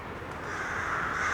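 Crows caw near a pond outdoors, heard as faint, rough calls over a steady background hiss.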